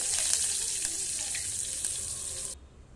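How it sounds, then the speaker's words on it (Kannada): Mustard seeds, cumin, asafoetida and curry leaves sizzle loudly in hot oil for idli sambar, a bright, steady frying hiss with faint crackles that cuts off abruptly near the end, leaving quiet. "ಸಾಸಿವೆ ಎಲ್ಲ ಸ್ವಲ್ಪ ಚಟಪಟ ಅಂದಮೇಲೆ ಸ್ವಲ್ಪ ಜೀರಿಗೆ ಹಾಕಿ ಸ್ವಲ್ಪ ಇಂಗು ಹಾಕಿ ಸ್ವಲ್ಪ ಕರ್ಬೇವು ಸೊಪ್ಪು ಹಾಕಿ"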